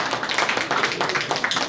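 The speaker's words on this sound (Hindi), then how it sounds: "जोरदार तालियां।" Audience applause after a speaker's talk: dense, steady clapping from many hands filling the whole stretch at moderate loudness, with no voices over it.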